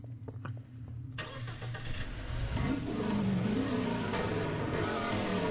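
A car engine in a zombie-infested town in a video game cranks and catches, then settles into a loud, rising rev that holds steady and close, with no talk over it.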